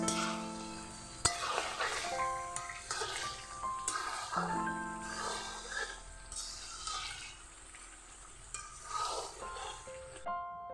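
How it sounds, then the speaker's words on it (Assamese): Meat fries slowly in a pan with an uneven, moderate sizzle that swells and fades in bursts, while sustained tonal sounds run over it. "মাংসখিনি মই এতিয়া ভালদৰে ভাজি থাকিম অলপ টাইম"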